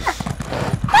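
Horse hooves clip-clopping in the video game Elder Scrolls Online, a quick run of close hoofbeats ending in a brief whinny, all within about a second.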